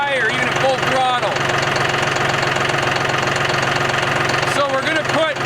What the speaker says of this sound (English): And the tractor won't lift it any higher, even at full throttle.